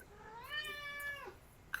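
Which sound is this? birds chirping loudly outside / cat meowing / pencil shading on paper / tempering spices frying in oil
cat meowing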